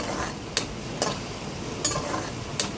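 Ginger garlic paste fries with onions in a pan over a medium flame, giving a faint steady sizzle broken by four short scraping stirs at regular intervals.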